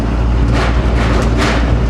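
A loud FedEx delivery truck with a 24-valve Cummins diesel and a check engine light on, heard as a heavy, continuous low rumble with broad roaring noise, close and steady throughout.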